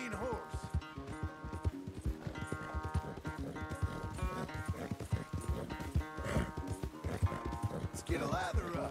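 Rapid clip-clop of a horse's galloping hooves in the video game Red Dead Redemption 2 runs continuously, loud and rhythmic, with a brief snort or whinny near the end.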